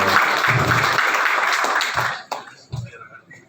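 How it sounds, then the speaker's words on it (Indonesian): Audience at an official welcoming event in Singaraja, Bali, applauding for a director general: steady dense clapping that fades out, followed by a few scattered claps and faint voices. "Tepuk tangan buat Pak Dirjen."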